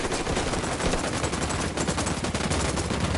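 Rapid, sustained automatic gunfire in Ghost Recon Wildlands, a dense, loud, unbroken stream of shots with no pauses.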